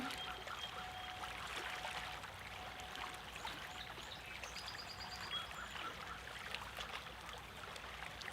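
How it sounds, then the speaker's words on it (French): Gentle water flowing in a calm outdoor setting, a soft steady trickling stream with faint bird calls above it, distant and quiet throughout. "On se repose quelques instants au son de l'eau."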